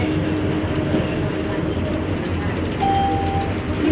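Steady low rumble and rattle of a Singapore LRT car in motion between Coral Edge and Punggol, heard from inside, with a brief tonal whine partway through and faint voices underneath.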